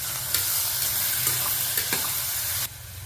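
Tomatoes sautéing in a pan for tomato rice, a soft steady sizzle with a few light stirring taps, quiet and close, cutting off near the end.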